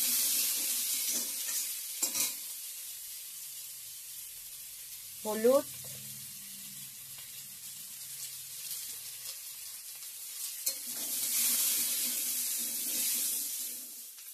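Potatoes and crushed ginger with panch phoron, turmeric and salt frying in a pan, a soft continuous hiss with a few clinks and stirring scrapes.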